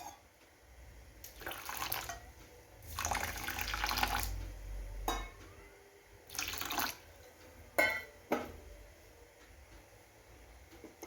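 Water poured in several separate bursts into a dish of couscous for a traditional Algerian chicken couscous, each splash lasting a second or two with quiet pauses between, close and moderately loud.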